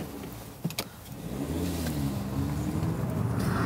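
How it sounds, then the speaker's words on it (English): Second-generation Audi RS3 with a turbocharged five-cylinder engine and RS Sports exhaust, firing up with a short mechanical click before settling into a deep, steady burbling idle heard close by. "This improved second generation RS3 model's potent burble is just as soulful as that of its predecessor"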